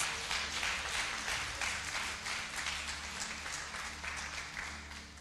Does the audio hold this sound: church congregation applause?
yes